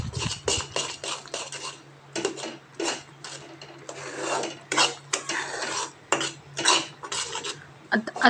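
A spoon scrapes and stirs a thick khoa peda mixture with crushed almonds in a pan, giving repeated close, uneven metallic scraping strokes with short pauses between them.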